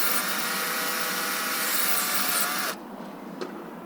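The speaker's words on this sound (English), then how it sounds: "Clean it up with a wire wheel first." A wire wheel on a power tool scrubs a steel washer from a Land Rover Discovery tie rod, a loud, steady abrasive whine that runs for nearly three seconds and then cuts off, leaving faint background noise.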